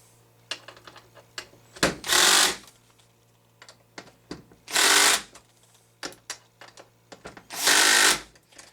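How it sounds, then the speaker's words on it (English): A power drill whirs in three short loud bursts, tightening screws on an HPI Baja SS RC car, separated by clicks and small handling noises in between. "after using the drill"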